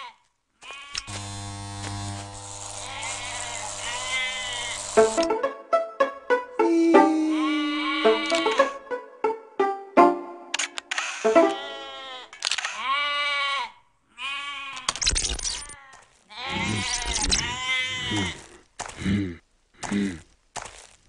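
Sheep bleating repeatedly, with several loud, wavering calls over about twenty seconds. Long drawn-out bleats come first, then shorter broken ones with brief gaps between them.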